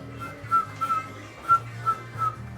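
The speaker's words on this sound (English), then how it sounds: "You can whistle." A person whistles a short tune of several separate notes with small pauses between, fairly clear and alone, with a faint low hum underneath.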